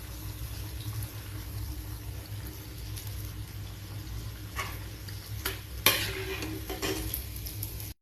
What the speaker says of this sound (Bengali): ফ্রাই হচ্ছে, হোক।